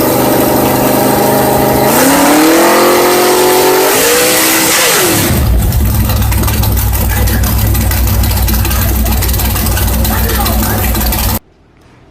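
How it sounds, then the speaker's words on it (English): A nitrous big block Chevy engine on a dyno revs hard and close, its pitch climbing and falling in loud sweeps before settling into a steady, heavy roar, with voices talking over it. "when you rev it"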